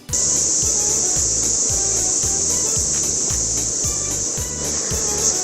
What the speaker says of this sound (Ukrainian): Коли машин нема, то можна почути цикад.